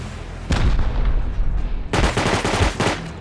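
Rust game gunfire: a short burst of rapid shots, a pause, then a longer sustained volley of repeated cracks, loud and close, with no talking.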